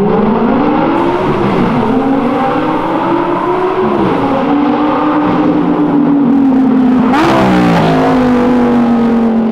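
A powerful Lamborghini engine roars close by as it approaches on an avenue, its pitch climbing as it accelerates, with a sharp burst of revving near the end.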